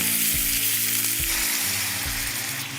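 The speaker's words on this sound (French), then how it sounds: "on va déglacer avec le jus d'orange" Orange juice poured into a hot Ecovitam frying pan to deglaze it sets off a loud, continuous close sizzle, with a few soft low thumps under the hiss and no speech.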